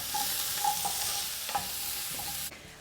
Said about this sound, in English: add in the onions and chili and then just cook this on high heat for 5 to 6 minutes